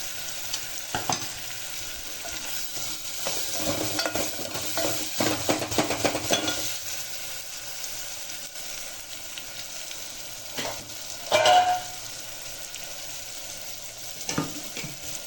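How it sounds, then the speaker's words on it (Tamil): Tomatoes sizzle and fry steadily in a pan, with a spoon stirring and scraping now and then and occasional louder clinks of utensils. "தக்காளி போட்டு வச்சுட்டு தக்காளி நல்லா வதங்கட்டும்"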